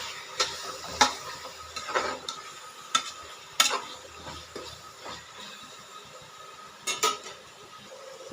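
Mint, coriander and green chillies are stirred into a frying mixture in a pan for chicken biryani, with repeated scraping strokes and sharp spoon taps over a faint sizzle, close by.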